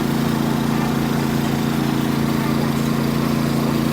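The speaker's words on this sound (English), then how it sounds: "There's generators running back there." Generators drone steadily behind the stalls of an Asian street food market, a constant loud mechanical hum with no breaks, alone without talk.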